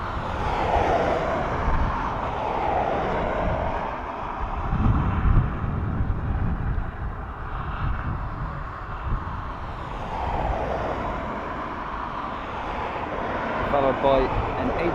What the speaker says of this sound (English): next we have Aer Lingus coming in from Frankfurt